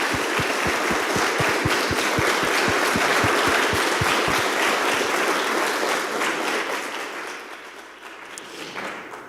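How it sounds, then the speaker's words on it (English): A classroom audience applauds after student engineering course presentations, sustained dense clapping that holds steady for several seconds, then thins and tapers off near the end. "Can we please give everyone a round of applause?"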